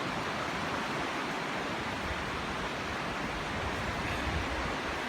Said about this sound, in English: Hear that roaring water.